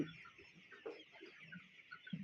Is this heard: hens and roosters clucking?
yes